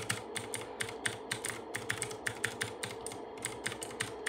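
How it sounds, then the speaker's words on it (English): Rapid, fairly regular tapping on computer keyboard keys by a 3D-printed robot, crisp clicks close by with no talking, over a faint steady background hum. "I have a bot set up for this that was 3D printed and is tapping on my keyboard"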